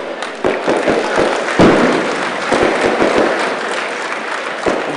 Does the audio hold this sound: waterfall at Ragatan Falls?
no